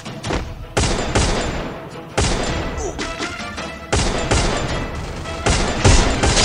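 Free Fire gameplay gunfire comes in several loud, sharp bursts of rapid shots, separated by brief gaps, close and dominant throughout.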